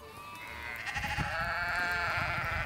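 A sheep near a fence in Scotland lets out one close, drawn-out wavering bleat that fills most of the moment.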